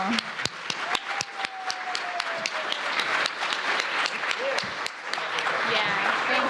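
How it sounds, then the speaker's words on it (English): An audience at a housing forum breaks into sustained applause for a panel, with sharp individual claps over a steady wash of clapping and a few cheers. "let's give it a round of applause to this amazing panel."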